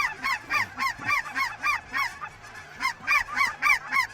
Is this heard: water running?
no